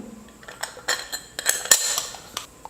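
An oiled metal murukku press for South Indian snacks is handled up close, giving scattered clinks, taps and scrapes of metal parts knocking together in an uneven rhythm with no talk.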